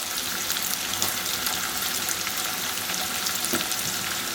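Garlic and ginger sauté in a pan with a soft, steady sizzle and occasional faint stirring scrapes, quiet and even throughout.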